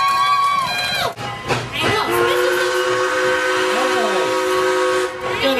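A steam train whistle at an adventure farm sounds loud and close, one long steady tone holding for several seconds, with voices talking over it.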